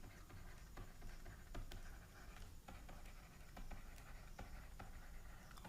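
Pen on paper writing out a heat-transfer statement about critical insulation thickness, a quiet continuous scratching with small ticks and taps, close and faint with no talk.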